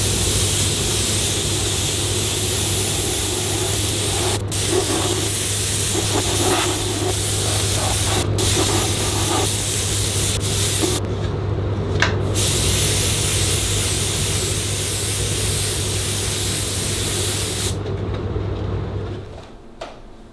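An airbrush sprays blue paint onto a custom crash helmet, giving a steady, close hiss that runs almost unbroken for about twenty seconds with a few brief pauses and tails off at the end.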